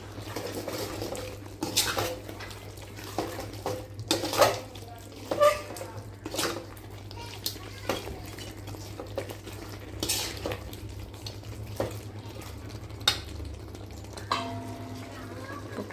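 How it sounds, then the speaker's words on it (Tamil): A spoon scrapes and clatters in a pan as masala is stirred into a chicken curry, irregular knocks and scraping over a low steady hum and faint sizzling, close and intermittent. "இந்த டைமில் நல்லா மிக்ஸ் பண்ணிக்கலாம்"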